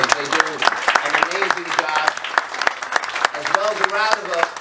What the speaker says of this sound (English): we can give them a great round of applause